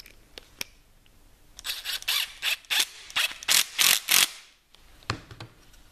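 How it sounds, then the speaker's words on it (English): A screw driven with a ratcheting tool into a countersunk plywood butt joint, heard as a rapid series of sharp clicking bursts, close and fairly loud, with a few isolated ticks before and after. "Taking another screw, holding it in place"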